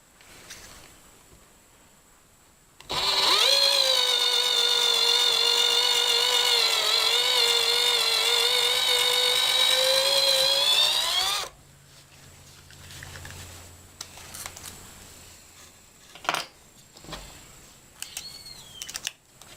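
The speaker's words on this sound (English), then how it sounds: "Then drill a pilot hole." A power drill bores a pilot hole in a homemade bracket built from scrap wood for a laundry room shelf, a single loud, steady whine lasting about eight seconds, then quieter handling noises and faint clicks.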